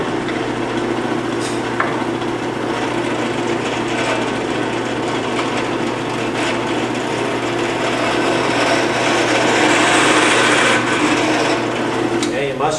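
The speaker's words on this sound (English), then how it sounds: "use the drill press for this operation because we want straight, accurate holes." A drill press works into a wooden CO2 car block, giving a sustained close motor drone with a scratchy, rasping bite through the wood and occasional sharp ticks.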